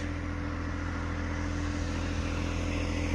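A John Deere 2025R compact tractor idles steadily while warming up on a snowy day, its engine a close, even, rhythmic low drone with no talking.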